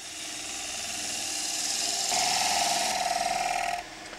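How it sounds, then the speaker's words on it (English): A wood-turning tool shear-scrapes a spinning bowl on a lathe, a loud close rasping hiss with a steady buzzing drone that swells midway and drops off sharply near the end. "Series of shear scrapes."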